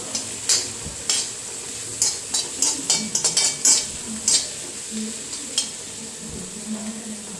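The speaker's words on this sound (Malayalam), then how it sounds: "ക്യാപ്സിക്കം, സവോള, പച്ചമുളക് ഇത്ര സാധനങ്ങൾ ഇതിനകത്തേക്ക് ഇട്ട് കൊടുത്തിട്ടുണ്ട് കേട്ടോ" Capsicum, onion and green chili frying in a pan for noodles, a steady sizzle with repeated scraping and clinking of a utensil stirring against the pan, close and fairly loud.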